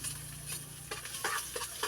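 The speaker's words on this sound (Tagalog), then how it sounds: "Then, igisa na natin siya guys." Food being sautéed and stirred in a pan, a steady low sizzle with several scraping stir strokes toward the end, close and fairly quiet.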